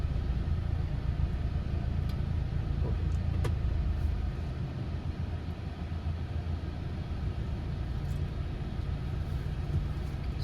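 A jeep engine at an off-road event rumbles steadily while the vehicle reverses, a continuous close low drone with a faint rise and dip in level and a few soft knocks.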